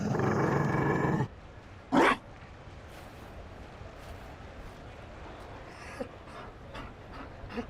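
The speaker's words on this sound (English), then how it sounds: "You found a dog." In a Dragon Age video game, a Mabari war dog growls and pants loudly for a moment, then a sharp short bark or snort follows, with faint ambient game noise and small clicks afterward.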